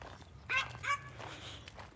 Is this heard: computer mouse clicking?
no